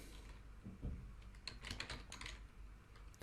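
Typing a web address on a computer keyboard, heard as quiet, close, irregular key clicks in a steady run with no talking.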